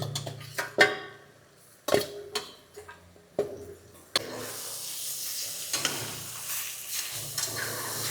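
Country chicken curry, natu kodi pulusu, simmering in a pan, with a soft steady sizzle and hiss broken by several sharp clinks and taps of a spoon stirring against the metal, growing into a fuller frying hiss later.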